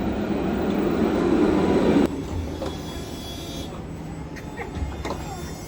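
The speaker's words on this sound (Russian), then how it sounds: "А вот и трамвай подходит." A tram rolls in along a street in Jerusalem, a steady rumbling roar that drops in level as it nears and passes, with faint clanks and a brief horn-like tone, heard alone.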